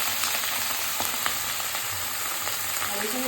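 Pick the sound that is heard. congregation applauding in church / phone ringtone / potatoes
potatoes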